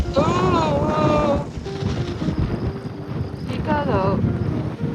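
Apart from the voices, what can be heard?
strong wind blowing into the microphone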